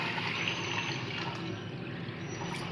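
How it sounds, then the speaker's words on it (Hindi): Water poured from a vessel into a cooking pot on a stove while preparing beef paya, a steady, continuous rushing splash with no one speaking. "अब ये पानी हमने इसके अंदर डाला,"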